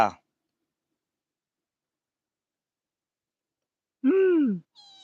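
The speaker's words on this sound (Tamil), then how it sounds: "பாரு இந்த பூனை பண்ணுற வேலை" A house cat gives a single clear, drawn-out meow after a long silence, followed by a short fainter sound.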